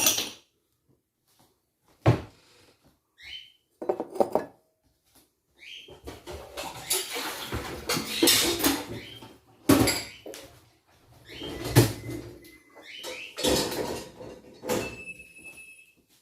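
Dishes and a small glass are put away in a kitchen cupboard, giving scattered knocks and clinks, cupboard door thumps and sliding rattles spread over several seconds, with quiet gaps between them.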